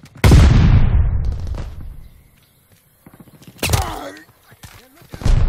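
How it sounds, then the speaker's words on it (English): A stun grenade bursting in the video game Call of Duty: Vanguard, a loud blast with a long decaying roar, then quieter game sounds and another burst of noise, with voices talking over it. "Tossing stun grenade!"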